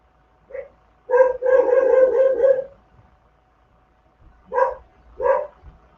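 A dog barks in short bursts nearby: a single yip, a rapid cluster of barks, then two more separate barks after a pause.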